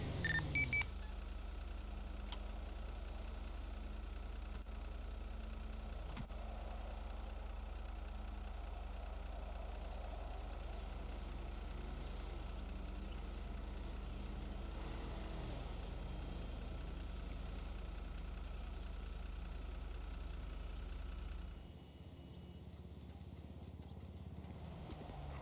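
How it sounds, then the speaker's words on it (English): In a video game, a dark-colored van reversing into a garage idles with a steady, low engine hum that runs evenly and then cuts out near the end, with no talk. "we've got a dark-colored van pulling up, reversing into the garage"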